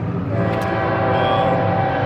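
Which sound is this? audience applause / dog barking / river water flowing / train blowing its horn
train blowing its horn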